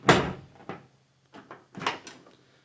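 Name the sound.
Dodge D250 truck door opening and shutting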